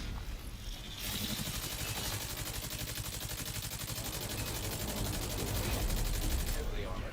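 Sustained rapid automatic fire from a light machine gun in The Division 2, a dense continuous burst lasting several seconds with loud, close, steady rattling.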